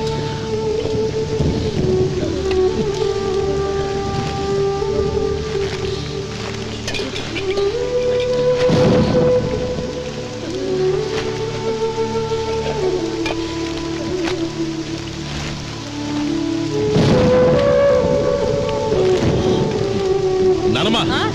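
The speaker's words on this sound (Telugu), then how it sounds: "ఇప్పుడు అర్ధంతరగా ఈ వర్షం పట్టుకుంది" Heavy rain pours steadily with rumbles of thunder during a night storm inside a house with a leaking roof, the downpour loud and continuous throughout with a couple of swelling thunder surges, under a musical score.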